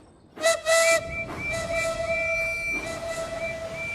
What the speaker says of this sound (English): Maybe we should blow our whistles.